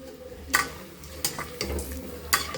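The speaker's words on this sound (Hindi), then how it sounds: "फिर हमें इसे चलाते हुए अच्छी तरह से अपने दही को पकाना है।" Curd (yogurt) is stirred and cooked in a pan for potato-based paneer shahi. A quiet low sizzle runs under a few separate scraping strokes of a spoon against the pan.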